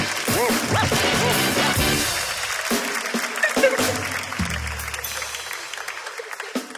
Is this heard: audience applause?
yes